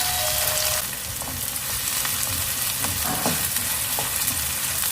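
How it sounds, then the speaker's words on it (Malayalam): Tomato and green chili hit a hot pan for a clam meat roast and are stirred together, giving a steady, close sizzle with soft scraping and stirring throughout and no voices. "ഇനി നമുക്ക് തക്കാളി ആ പച്ചമുളക് കൂടെ ചേർത്ത് കൊടുക്കാം. നന്നായിട്ട് മിക്സ് ചെയ്യാം."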